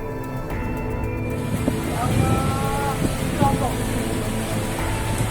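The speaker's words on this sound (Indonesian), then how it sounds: "Angin puting beliung di Banyuwangi." Strong tornado wind in Bangorejo, Banyuwangi, roars steadily with heavy buffeting against the microphone, while excited voices cry out over the rushing gusts.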